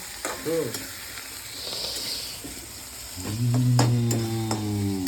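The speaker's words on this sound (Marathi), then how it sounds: "मी आता मस्त टमाटे त्यानंतर टाकलेले आहेत." Tomatoes and spices frying and being stirred in a pan for chicken gravy, a steady close sizzle with scraping stir strokes, swelling louder toward the end.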